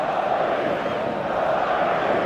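A dense stadium crowd roar from the eFootball video game, a steady unbroken wash of many voices holding at an even, fairly loud level throughout.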